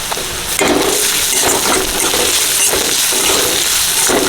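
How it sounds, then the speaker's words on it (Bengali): Onions dropped into hot oil for chicken chow, giving a loud, steady sizzle that jumps up as they hit the pan and keeps crackling, with faint clinks of utensils. "তেল গরম হয়ে গেছে পেঁয়াজ দিয়ে দিলাম"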